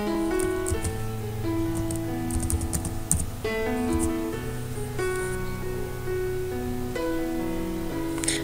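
Keys clatter on a computer keyboard in a rapid, uneven run of close, crisp taps with brief pauses, heard alone while someone types text into a website builder.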